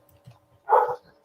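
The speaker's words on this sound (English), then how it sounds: "I have dogs hollering" Dogs let out one short, fairly loud bark after a few faint background noises.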